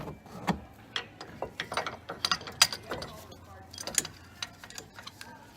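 The rear brake caliper on a 2016 Dodge Challenger is compressed, giving a series of quiet metallic clicks and ratcheting taps, irregular and close, with mechanical rattles throughout.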